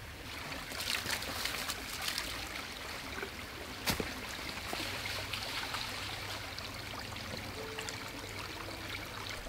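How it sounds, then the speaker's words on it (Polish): A river flows steadily nearby with a broad, constant rush and trickle, loud and close, with a brief knock partway through and no one talking. "Jesteśmy teraz nad rzeką."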